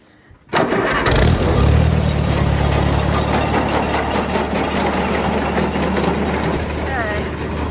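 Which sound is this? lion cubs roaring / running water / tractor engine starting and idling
tractor engine starting and idling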